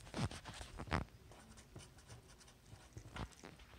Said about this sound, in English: just had to hold my paper to write it